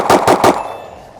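Three rapid pistol shots from a stock Glock 19 crack out loud and close in quick succession, followed by a short ringing decay.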